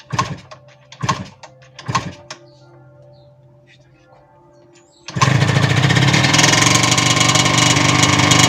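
Yamaha TZR 125 motorcycle two-stroke engine: a few short kicks or cranking bursts, a pause, then the engine fires and runs loud and steady, revving roughly at close range.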